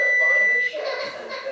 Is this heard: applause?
no